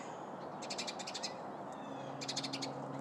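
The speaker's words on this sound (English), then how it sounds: "Sparrows are not too happy with me right now." Agitated sparrows call outdoors in the early morning in two short bursts of rapid, repeated high chirps, moderately near, with faint background hum between the bursts.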